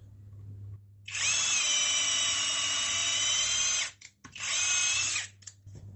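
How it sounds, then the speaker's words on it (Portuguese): A CHIGO cordless screwdriver runs an 8 mm drill bit at high speed, giving two loud, steady whining bursts, a long one and then a shorter one after a brief pause, over a low background hum. "Broca de 8 milímetros ainda em alta rotação."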